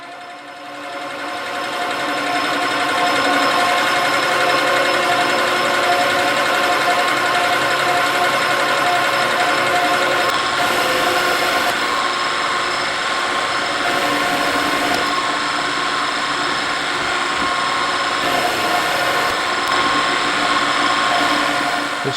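A metal lathe runs on power cross feed, cleaning up a shoulder on a novelty pellet target gauge part while barely taking material off, a steady close mechanical whine and hum holding evenly throughout.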